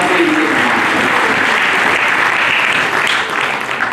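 Loud, dense audience applause fills a hall at an award ceremony in India's parliament, sustained and even throughout with no break.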